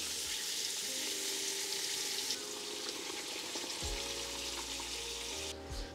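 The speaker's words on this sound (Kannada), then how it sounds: "ಏನು ರುಬ್ಬಿದ ಮಸಾಲ ಹಾಕುವ" Ground masala hits sea crab in a pan for Mangalore-style crab sukka, giving a loud, steady sizzle and crackle throughout with a low rumble underneath and brief stirring scrapes, no voices.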